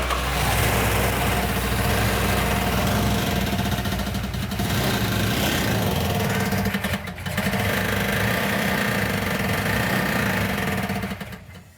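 A 1970–71 Plymouth Barracuda engine runs loud and steady close by, a rough idle with a brief dip around the seventh second before it settles again and then cuts off at the end.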